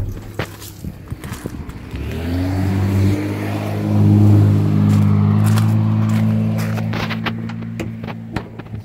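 A 1992 Ford F150 with a fuel-injected 306 inline six starts up and revs, its note rising and swelling in the middle before easing back toward idle, close and loud amid small clicks and rustles.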